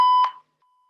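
A workout interval timer gives one loud, sharp electronic beep that cuts off abruptly, followed by near silence.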